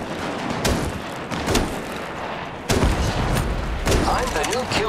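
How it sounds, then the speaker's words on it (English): Gunfire in the mobile battle-royale game Apex Legends Mobile, with several loud bursts of shots cracking over a dense, busy game soundscape, the heaviest volley starting about halfway through. "Opening fire on the enemy."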